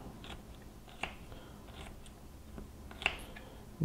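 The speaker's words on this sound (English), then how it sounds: "So I'm going to thinly slice this garlic" Knife thinly slicing garlic cloves for triple garlic shrimp, heard as faint, sparse crisp cuts scattered over a few seconds with soft kitchen background.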